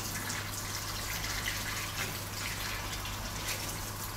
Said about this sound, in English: run your hot water till you get it pretty warm